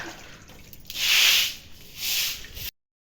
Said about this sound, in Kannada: ಅಮ್ಮ ನೀರು ಹಾಕಿ ತೊಳಿತಾವ್ರೆ